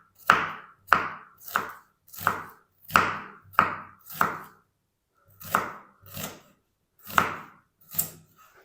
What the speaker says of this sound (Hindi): तो इसको ना हम स्लाइस में ब्रीक ब्रीक इसकी कटिंग करेंगे इस तरीके